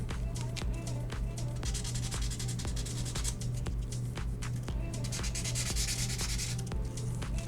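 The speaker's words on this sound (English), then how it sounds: "So I'm just going to sand" Hand sanding on a DIY piece being prepared for gluing, a rapid, rhythmic back-and-forth scratchy rasp of even strokes, close and steady, with a low electrical hum underneath.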